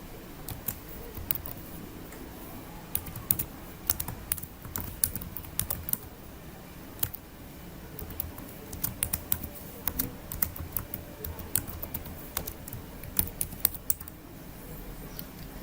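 Fast, sharp key clicks from a computer keyboard as banner text is typed into OBS, coming in irregular bursts with brief pauses over a low, steady background hum; no talking.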